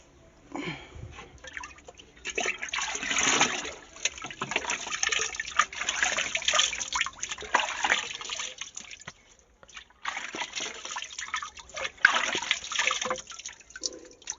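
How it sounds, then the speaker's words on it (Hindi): Water runs and splashes unevenly while a man washes his face, with trickling and bursts of splashing, a brief pause partway through, and faint sniffing, no talk. "मुंह धो लेता हूँ।"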